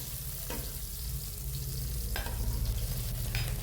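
Onions, garlic, ginger and green chillies fry for paneer butter masala, giving a constant close sizzle with three distinct scraping stirs spaced through it, no voices.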